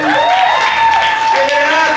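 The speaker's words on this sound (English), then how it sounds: "He's all the way in the back, so y'all gonna have to clap for a long time" Audience clapping for a poet at an open-mic night, a dense, continuous round of applause with whoops and voices mixed in.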